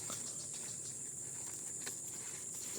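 A cricket chirps steadily in a garden among squash plants, its bright, continuous trill running alone through the whole stretch over a quiet outdoor background.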